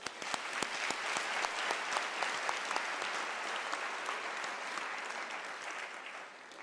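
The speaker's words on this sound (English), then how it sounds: "I believe Professor Modisani deserves another round of applause" Sustained applause from a large audience fills a university graduation ceremony hall, steady dense clapping with a few sharper claps, moderately distant, lasting several seconds.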